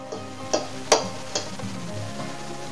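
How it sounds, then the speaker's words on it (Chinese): Home-produced eggs being cracked against a bowl for a traditional cake, with a few sharp, distinct taps and cracks spaced over a couple of seconds, close and fairly loud over a low background. "好，那现在我们就开始打蛋喽。"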